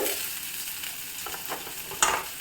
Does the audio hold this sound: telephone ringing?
no